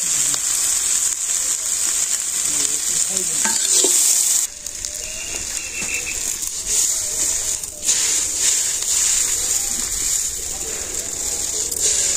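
Garlic stirred into a frying vegetable chorchori, a steady loud sizzle of hot oil with scraping stirring strokes throughout.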